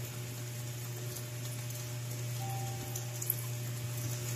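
Steady rain falling in a very quiet rural setting, a soft, even patter with a faint low hum underneath and no voices.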